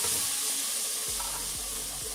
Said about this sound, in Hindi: अभी हम ऐड कर रहे हैं प्याज का पेस्ट, प्याज और सब्ज़ मिर्च का पेस्ट जो हमने बनाया था।